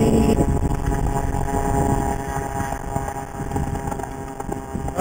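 A CAG 49cc pocket bike scooter engine droning steadily through a top speed run, loud and continuous with heavy wind rush over it.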